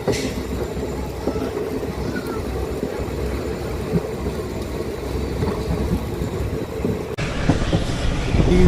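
Passenger train hauled by a diesel locomotive rolling along rails between Patiala and Abohar, a loud continuous rumble with rhythmic clatter heard from inside the coach, no talk.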